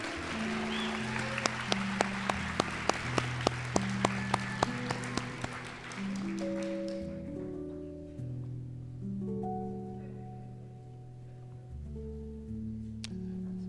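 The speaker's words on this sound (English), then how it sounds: "Applause for these great students if you do not mind." Students at a white coat ceremony are applauded, with a few sharp, evenly spaced claps close by over a sustained musical backdrop; the clapping fades after the first half, leaving the music alone.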